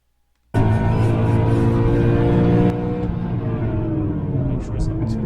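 Race car engine in a video game lap of Spa Francorchamps, a loud sustained engine drone that starts abruptly, holds steady at high revs, then shifts down slightly as the car continues.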